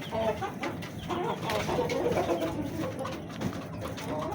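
Desi and aseel hens on a poultry farm cluck and coo in a steady, close flock chatter, with overlapping bird calls and no voices.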